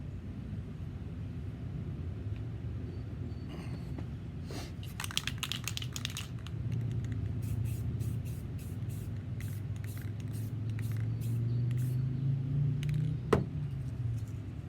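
Short and longer bursts of an aerosol spray can hiss as camouflage paint goes onto the lid of a jon boat, the rattly hissing repeating in steady passes over a low background rumble.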